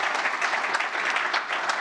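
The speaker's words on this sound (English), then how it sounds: "A big applause to the panel." Loud, dense applause from an audience for a four-member panel at a policy discussion, continuous clapping filling the room without any voices on top.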